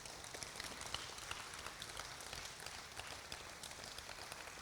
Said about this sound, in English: can we have one more round of applause for the musicians?